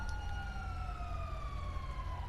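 Police car siren in GTA 5 wails with a long, slowly falling tone, steady and fairly close over low engine rumble, with no talk.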